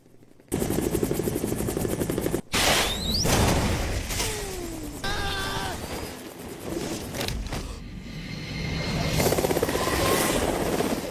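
A helicopter thumps loudly and continuously through a war film scene, its rotor pulse mixed with bursts of gunfire, whooshes and impacts.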